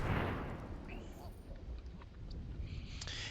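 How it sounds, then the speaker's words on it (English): A card being destroyed in Magic the Gathering Arena, marked by a loud burst right at the start that trails off into a rumbling, crackling effect with faint sparkly tones near the end. "I'm going to go ahead and destroy his card."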